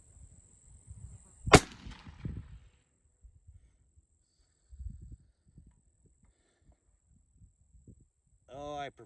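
A single sharp crack from a Remington 700 ADL rifle in .243 fired outdoors, followed by quiet stretches with faint low rumbles and brief soft noises.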